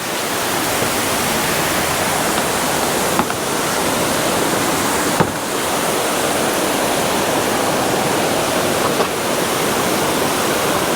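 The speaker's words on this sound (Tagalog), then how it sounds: "Ito na yung area kung saan yung waterfalls." The Yunsen waterfall in Taiwan gives off a loud, continuous broadband roar of falling water, steady and close throughout with a couple of faint clicks and no talking.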